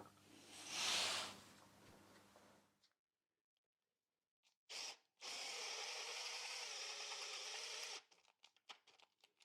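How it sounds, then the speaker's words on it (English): A power drill bores a hole for a motorcycle exhaust mount on a Royal Enfield Classic 350, starting with a short burst and then running in one steady whine for about three seconds, with scattered clicks of handling around it. "Let's get this drilled and try it out."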